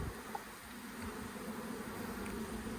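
Honey bees from a five-year-old colony buzzing during relocation, a steady, continuous low drone that stays fairly quiet and close for a few seconds, with no voices.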